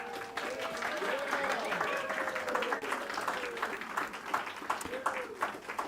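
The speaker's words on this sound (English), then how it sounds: "could you please stand up so we can give you a round of applause?" A church congregation applauds the decorating team, a soft, distant patter of clapping with people talking over it and a few voices rising above the crowd.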